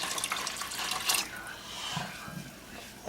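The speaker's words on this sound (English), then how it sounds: "Add your water." Water poured from a tap or container into hot beef jerky brine just taken off the heat, a short splashing gush that fades to a softer trickle, with no talk over it.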